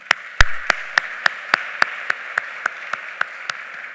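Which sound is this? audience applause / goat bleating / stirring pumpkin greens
audience applause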